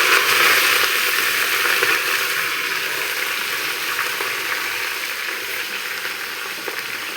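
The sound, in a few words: taro stems (karkalo) frying with fenugreek and dried chillies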